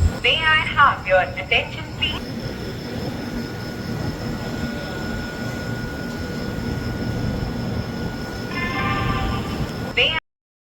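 Inside a long-distance passenger train running from Punjab to Kerala: a steady, close rumble of the moving carriage throughout, with brief tonal bursts near the start and the end.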